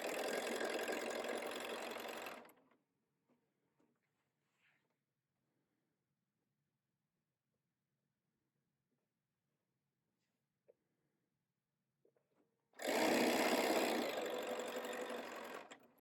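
A sewing machine stitches quilt fabric strips and squares in two loud, steady bursts of rapid running, about two seconds at the start and three at the end, separated by near silence.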